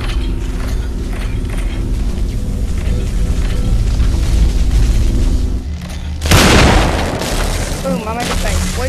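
Gunfire in the VR shooter Population: One, with booming shots and mechanical clanks over a steady game soundscape, then a burst of louder crackling impacts, with players talking throughout.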